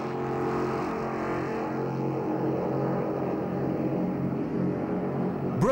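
Class 1 offshore racing powerboats run at full throttle on open water in 1994, a steady, loud, dense engine roar with layered harmonic drone holding constant throughout, no voices over it.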